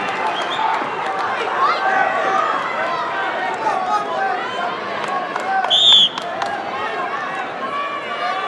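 Crowd noise fills a school gym at a Paulsboro versus Collingswood high school wrestling match, with a steady roar of voices and cheering, sharp squeaks and a brief louder burst near the end. A commentator talks over it.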